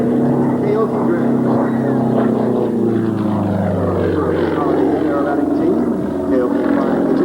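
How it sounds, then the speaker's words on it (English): A two-seat Sukhoi Su-29 aerobatic plane at a 1994 Quonset Point air show roars with a loud, sustained propeller drone that slowly shifts pitch as it climbs vertically, while an announcer talks over it. "Flying the 2-place Su-29. Beautiful vertical climb by Ian on the top."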